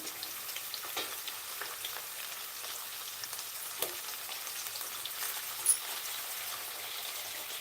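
Onions and green chilies fry in hot oil with a soft, steady crackling sizzle and a few brief clicks of stirring.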